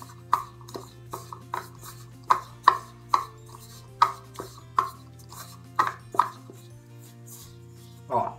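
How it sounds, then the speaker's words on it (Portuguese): A spoon works seasonings, including colorau and salt, into a paste in a bowl, giving a steady run of soft scraping taps and clicks at a near-even rhythm, close and alone, over a low steady hum. "Agora eu vou misturar isso aqui, ó. Fazer uma massinha."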